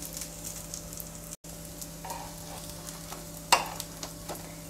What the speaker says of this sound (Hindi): दूसरी साइड से भी इसे हम क्रिस्प होने तक फ्राई करेंगे